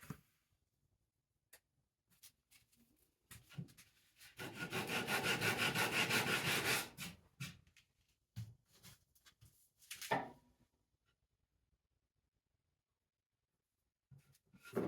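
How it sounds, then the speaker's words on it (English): Wood sanded by hand with 120 grit aluminum oxide paper while repairing a damaged drawer: a loud, steady burst of rasping strokes lasting a few seconds, framed by quiet gaps and a few scattered knocks and handling clicks. "I'm going to continue sanding this."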